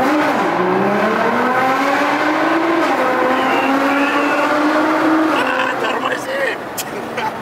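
A Nissan GT-R Stage 2 sports car engine revs and roars inside a tunnel, pitch climbing through gears, loud and close, then easing off near the end.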